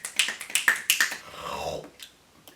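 Sharp finger snaps come one after another, about eight in a quick uneven rhythm, close and crisp, followed by a short soft swishing sound and then quiet.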